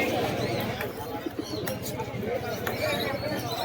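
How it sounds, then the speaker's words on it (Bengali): Sudri and Giribaz pigeons coo at a crowded pigeon market, with repeated soft throaty coos and chirps layered over a busy babble of voices and market noise. "বন্ধুরা সুদরি পায়রা, এই যে সুদরির সাথে জোড়াটা দেখুন"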